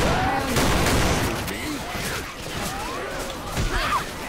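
Rapid gunfire and crashing impacts from Left 4 Dead 2, loud and dense throughout, with scattered whooshes mixed in.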